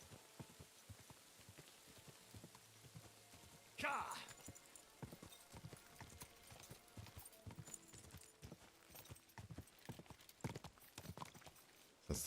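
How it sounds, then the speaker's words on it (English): Horse hooves clip-clop in a video game, a steady rhythmic patter of fairly soft hoofbeats with a brief louder scuffle partway through, while a person talks over it. "I have an unhappy horse."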